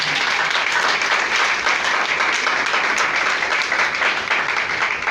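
A church congregation breaks into sustained applause during a worship service, a dense, even wash of many hands clapping for about five seconds, fairly loud and close, with a faint voice underneath.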